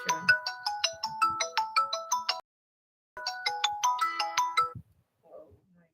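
A mobile phone ringtone plays a bright, repeating electronic melody in two loud bursts separated by a short silence, close to the listener, with faint sounds trailing after.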